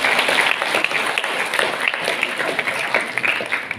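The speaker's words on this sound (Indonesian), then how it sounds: "Untuk itu tepuk tangan sekali lagi untuk kita semua." Crowd at an Indonesian high school gathering of SMA Negeri 1 Gondang clapping, a dense ripple of hand claps that starts strong and gradually thins and softens, with faint voices mixed in.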